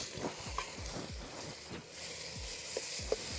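Dried red chillies fry in oil for Pallipalayam chicken, a soft steady sizzle under a series of low, repeated scraping stirs in the pan.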